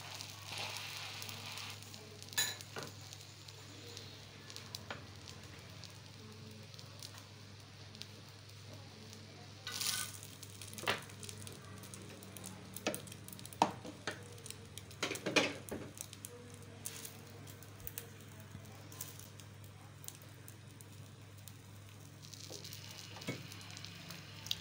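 Egg and bread sandwich frying in oil on a hot griddle, a steady low sizzle running throughout with scattered crackles and small pops, fairly quiet and with no one talking.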